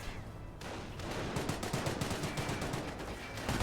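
Machine gun fire in the strategy game Company of Heroes, a rapid continuous string of shots after a brief lull, moderately faint under a dense battle din, without speech.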